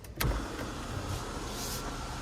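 The power roof of a 2023 Ford F150 Lightning Platinum closes: a brief clunk, then a steady electric motor whir inside the cab.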